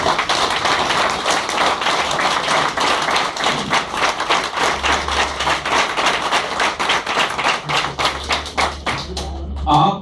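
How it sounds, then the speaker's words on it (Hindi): An audience at a leadership training seminar claps for themselves, a dense, sustained burst of many hands that fills the whole stretch at steady loudness, with a faint low hum beneath. "तो आप सब लोग अपने लिए एक जोरदार ताली बजा सकते हैं"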